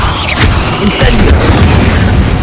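Incendio fire spell cast in Hogwarts Legacy: a loud, dense roaring burst with a whooshing rush, sustained and unbroken for a couple of seconds.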